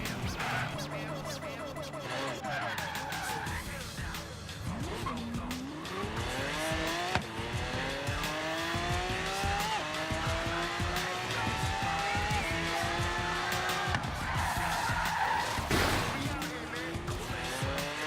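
A Liger Zero Schneider Design car in Forza Horizon 3 roars through rising and falling engine revs as its tires squeal and skid again and again, loud and continuous throughout.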